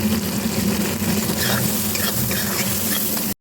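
Chili powder and turmeric frying in oil for a Bengali bhola fish curry with mustard, giving a steady, close sizzle with stirring scrapes throughout and no talk.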